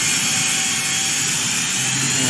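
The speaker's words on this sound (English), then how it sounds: "To do this easily, you get your hand drill" A hand drill bores into a plastic sunglasses frame, a steady close, loud whirring grind that runs unbroken throughout.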